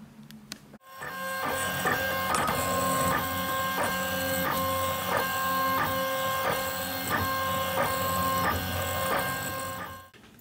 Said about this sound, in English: so now we need to 3D print them.